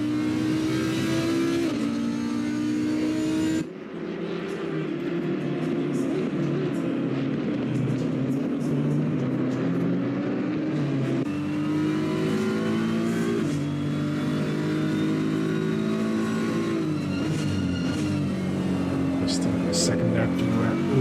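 A BMW GT3 race car in Assetto Corsa Competizione at Bathurst, its engine droning and shifting pitch through gear changes and revs, continuous and loud, with a commentator talking over it throughout.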